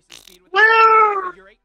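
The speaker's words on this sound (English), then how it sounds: "I heard a cat!" A cat gives one clear, drawn-out meow close to the microphone, a strong tonal cry lasting under a second after a brief faint sound.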